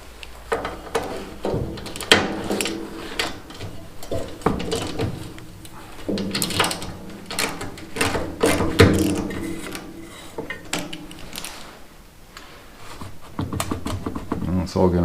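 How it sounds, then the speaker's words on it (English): Metallic clicks, ratcheting and clanks of a wrench loosening bolts on a Troy-Bilt chipper/vac, irregular bursts close by with someone talking over parts of it. "Now these 3 bolts have got to come off. I might have to loosen up this bolt."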